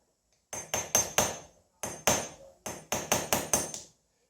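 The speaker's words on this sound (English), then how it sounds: "We're going to switch down to a 3-ounce hammer." A small 3-ounce hammer taps sheet steel in quick bursts of three to four sharp, ringing strikes with brief pauses between groups, close and clear.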